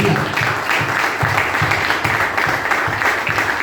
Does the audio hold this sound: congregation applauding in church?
yes